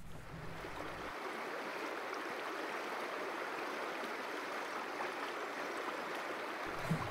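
A river runs over pebbles along its bank, making a steady, broad rushing wash that stays even throughout, with a low rumble only at the very start and end; there is no speech.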